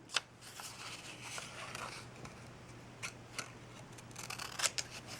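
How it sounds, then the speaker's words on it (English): Scissors snip through paper while cutting petals off a paper rose in a craft project, a string of quiet clicks and short crisp cuts over a low steady hum, with a few sharper snips near the end. "The second one, you're going to cut off 2 petals."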